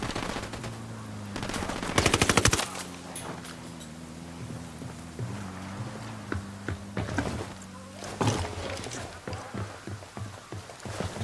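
Rapid automatic gunfire in the Ghost Recon Wildlands video game, with loud bursts of fast rattling shots around the two-second mark and again near eight seconds, scattered single shots between, over a low engine drone and faint voices.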